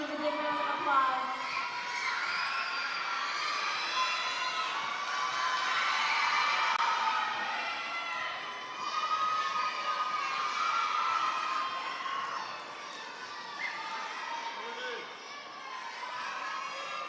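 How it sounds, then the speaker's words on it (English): An audience at a dance performance cheers and whoops for the dancers, a lively crowd roar with shrill shouts that keeps going throughout, partly mixed with voices. "Give these dancers a big round of applause."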